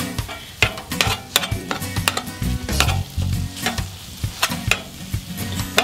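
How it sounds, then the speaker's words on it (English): Pork pieces frying with onions in a soup pot for beer cheese soup, with steady sizzling and repeated scraping stir strokes close by, no talking. "It's time to just take our pork, kind of let it start doing its thing in here with our onions."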